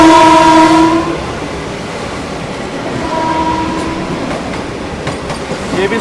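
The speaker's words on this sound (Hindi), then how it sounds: "वाराणसी नई दिल्ली वंदे भारत एक्सप्रेस आ रही है भाई गजब की रफ्तार में" Vande Bharat Express train from Varanasi to New Delhi rushes past at high speed, a loud, steady roar of wheels and rushing air with a horn blast at the start.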